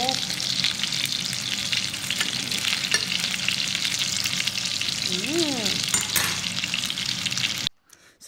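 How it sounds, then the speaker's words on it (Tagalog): Food fries in hot oil with a loud, dense, continuous sizzling crackle heard up close, steady throughout with a few faint clinks, before cutting off abruptly at the end. "Tapos iprito natin dito pag mainit na"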